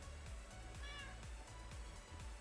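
A cat in the Minecraft video game gives one short meow near the middle, heard over steady low background music with a repeating bass pulse.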